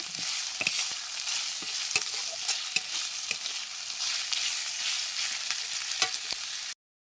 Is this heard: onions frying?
yes